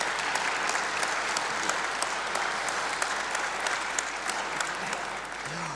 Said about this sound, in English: I think perhaps a round of applause